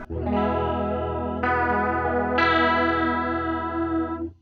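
A sustained guitar chord pulses with a fast, wobbly chorus modulation, the pitch warbling rhythmically as two more chords are struck, loud and alone.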